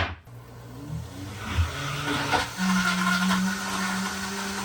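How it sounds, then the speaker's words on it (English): A blender blending a chunky strawberry smoothie starts and runs steadily, a loud continuous motor whir with a rising grinding tone, no voices. "So I'm gonna start the blender."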